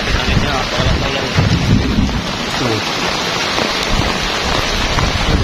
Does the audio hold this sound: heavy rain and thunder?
yes